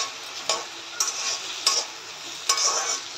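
Okra frying in a pan with salt over raised heat for cheese bhindi, a continuous close sizzle broken by regular stirring clacks about every half second to second, no voices.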